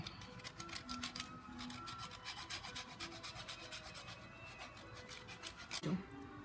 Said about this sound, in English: We're going to grate some Parmigiana over that.